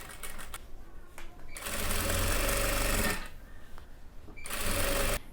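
A sewing machine backstitches along the edge of a hooded towel, running in close, loud bursts that start and stop with brief pauses between them and no talk over the stitching.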